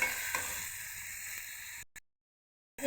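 Beef with ginger-garlic paste and spices frying in hot oil, a dense close sizzle that holds steady and then cuts off abruptly into silence.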